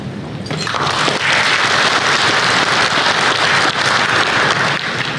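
An audience applauds after a speech at a Hana Bank economic outlook event, a dense, steady wash of clapping that builds quickly and holds loud throughout with no voices over it.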